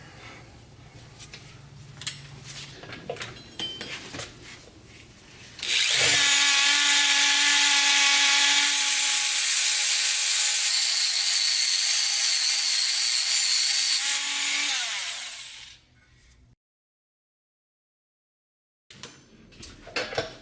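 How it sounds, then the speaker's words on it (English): A die grinder dresses cut metal edges while fitting hub-centric wheel spacers on a Toyota 4Runner: a loud, sustained high-pitched grinding whine of about ten seconds stops abruptly, framed by quieter workshop handling noises. "I'll fix that with the die grinder"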